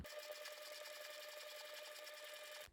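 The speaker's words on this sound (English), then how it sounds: "I might just sew one more line just inside that" A sewing machine stitches a fabric wallet in a fast, even, close mechanical whirr of rapid needle strokes lasting under three seconds, then stopping abruptly, with no talk.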